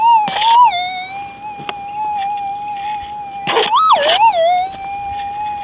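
Minelab SDC2300 gold metal detector giving a loud signal over a small flat copper target: a steady high electronic tone that wavers and rises in pitch in a few swells, with brief scrape noises as the coil moves.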